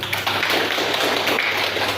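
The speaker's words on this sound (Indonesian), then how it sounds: "Tepuk tangan." A classroom of students claps together, a quick, dense patter of many hands at moderate loudness, with a low electrical hum underneath and no talking.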